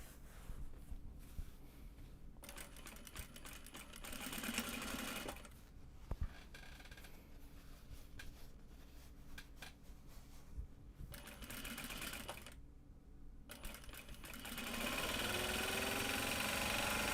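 A sewing machine stitches drawstring bags made from Japanese fabric, running in several bursts of rapid mechanical whirring with short pauses between them, recorded close and quietly.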